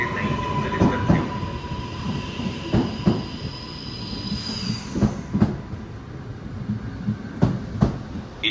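A Trenitalia regional train departs from a platform at Venezia Mestre station, rolling along the tracks with rhythmic clacks and thumps of wheels over rail joints, a faint squeal and steady rumble throughout.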